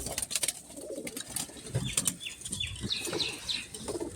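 Pigeons in a loft cooing softly while wings flap in several quick bursts, close and busy, with scattered chirps and rustles between the flutters.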